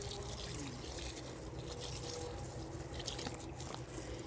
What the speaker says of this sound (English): I'm going to water that in so they have a nice drink